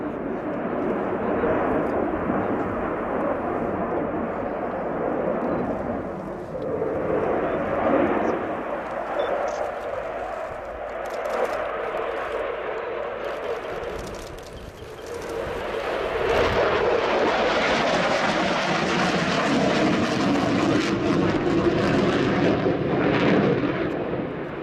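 A Ukrainian Air Force Sukhoi Su-27 fighter jet accelerating during an airshow flying display: a loud, sustained jet-engine roar that rolls on for about twenty-five seconds, dipping briefly midway before swelling into a fuller, harsher blast.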